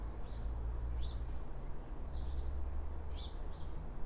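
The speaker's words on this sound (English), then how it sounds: "Listen to the birds." Faint birds chirp in short scattered bursts in the early morning over a low steady rumble of background noise, distant and sparse with no voices.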